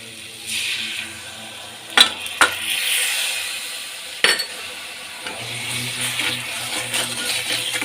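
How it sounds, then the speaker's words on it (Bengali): Water splashes into sizzling masala in a pan for fish head curry with potatoes, a few sharp clinks and a brief hiss before a softer bubbling sizzle settles in. "এবার কিন্তু আমি নুনটা স্বাদ মতন দেবো একটু যত সামান্য জল দেব এবার"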